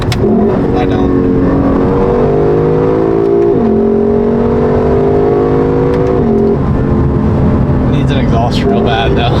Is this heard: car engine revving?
yes